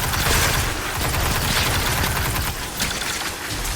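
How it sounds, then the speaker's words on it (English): Enemy gunfire in the video game Destiny 2, a dense, continuous barrage of shots and impacts crackling from all around at steady loudness for the whole stretch, with no voices. "I know there's a bunch of things shooting from around me, but they're not that big a deal."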